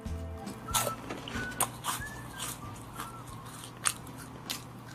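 Crunchy bites and chewing of a whole-wheat cream cheese protein crispy roll snack, thicker and shorter than a standard crispy roll, with several sharp close crunches spread over a few seconds amid soft mouth noise.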